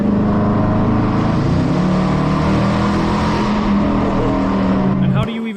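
Dodge Charger Hemi V8, compared between the 5.7 Daytona and the 6.4, roars loudly and steadily for about five seconds, then cuts off abruptly, with people talking over the engine.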